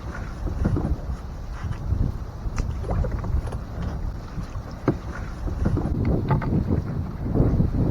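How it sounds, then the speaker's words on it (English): Wind buffets the microphone on a kayak out on a Minnesota lake, a steady rough rumble with water sloshing and slapping against the hull, no talking. "The wind has definitely picked up now that I'm not in that sheltered area anymore."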